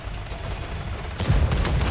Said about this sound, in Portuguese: Até a artilharia dele já tá chegando aqui pra perto.